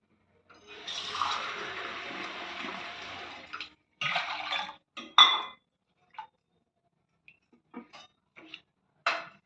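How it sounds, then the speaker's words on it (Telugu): Water pours steadily into a pot of mango dal for a few seconds, then several short metallic clanks and clinks of cookware follow, close by with no talking. "ఇందులో రెండు గ్లాసులు నీళ్ళు పోయాలి"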